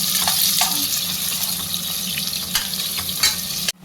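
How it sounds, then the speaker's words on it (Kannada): Chopped onions fry in hot oil for a mint chicken gravy, a steady close sizzle with occasional stirring scrapes and clicks, no voices, ending abruptly near the close. "ಈ ಥರ ಬ್ರೌನ್ ಕಲರ್ ಬರೋವರೆಗೂ ಫ್ರೈ ಮಾಡಬೇಕು."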